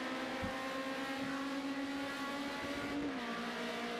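Race car engines at Hockenheim in a wet sim race drone steadily, with pitch dips marking gear changes as they accelerate, continuous and fairly close with no talking.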